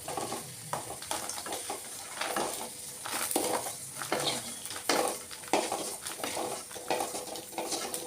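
Dried red chillies fry in oil for tomato chutney, with a faint sizzle under repeated scraping and clinking of a metal spoon against the pan.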